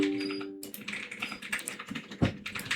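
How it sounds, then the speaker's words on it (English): Computer keyboard typed on at a PC, a quick run of light, close key clicks with a brief pause, fairly faint and with no voices. "then go here and type in registry editor"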